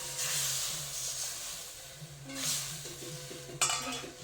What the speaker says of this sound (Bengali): লঙ্কা গুঁড়োকে আমি একটু জলের সঙ্গে মিশিয়ে নিয়েছি, দিয়ে দেবো, দিয়ে একটু নেড়ে নেব